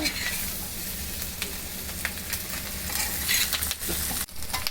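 Steady, dense sizzling of chicken frying in a hot pan, loud and close, with occasional pops and crackles and a brief dip near the end.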